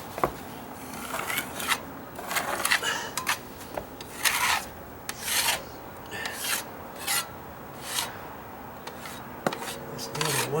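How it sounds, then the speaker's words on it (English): A 3-inch putty knife scrapes down ridges of patch material on deck stairs, making a series of close, raspy scraping strokes in an irregular rhythm, with no talk. "Now's the time to knock them down. Got my 3-inch putty knife I'm working with now."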